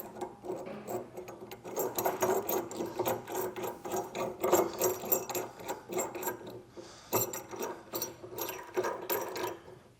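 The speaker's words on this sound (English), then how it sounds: "Now we can get our ball installed and torqued down." Rapid clicking of a ratchet wrench tightening the nut on a trailer hitch ball, repeated bursts of close mechanical ratcheting with brief pauses between strokes.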